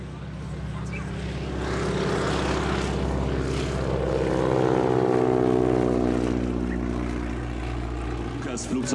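Vintage Junkers F-13 propeller aircraft, first flown in 1919, passing at an air display, a droning engine that swells, peaks mid-pass and slowly fades, with a commentator talking over it.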